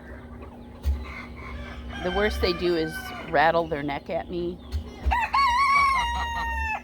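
Buff geese and chickens call and cluck close by, with a rooster crowing among them, mixed with a person talking over a steady low hum.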